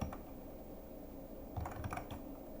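Fast typing of code on a computer keyboard, a steady run of close, soft key clicks with a denser cluster of louder strokes near the end, no voices.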